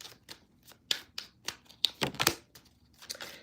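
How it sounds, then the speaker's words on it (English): Tarot cards shuffled by hand in a series of crisp riffling bursts and soft slaps, close and fairly quiet, with brief pauses between bursts and no talking. "One more shuffle."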